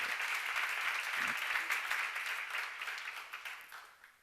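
Applause from a church congregation at a Bible seminar on Matthew 19–20, a broad steady patter of many hands that holds for several seconds and then thins out and fades toward the end.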